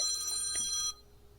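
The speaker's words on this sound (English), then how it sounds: "I love the 1950s ringtone." Old-fashioned 1950s-style telephone bell ringtone rings loud and close, a continuous metallic trill that cuts off abruptly near the end, leaving quiet room tone.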